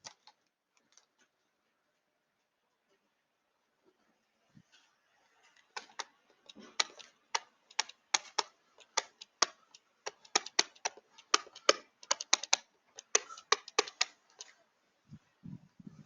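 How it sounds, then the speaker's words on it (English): Calculator keys are pressed to enter an expression, heard as close, sharp plastic clicks. Irregular bursts of rapid taps follow a quiet start. "if I use my calculator and I use my parentheses correctly, I should be able to type all this in"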